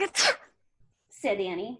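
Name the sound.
sneeze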